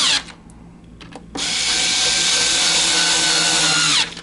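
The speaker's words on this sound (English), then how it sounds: "So this drill is plenty strong." A strong power drill starts with a few short bursts and then runs steadily and loudly for nearly three seconds before stopping.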